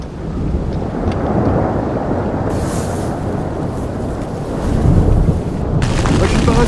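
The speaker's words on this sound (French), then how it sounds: "On est sur un col, sous un orage, avec de la grêle." Thunderstorm with hail on a mountain pass: a dense, continuous roar of wind, rain and hail, with a deep rumble of thunder swelling toward the end.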